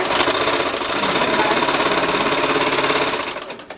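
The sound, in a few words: sewing machine stitching hem of chiffon dress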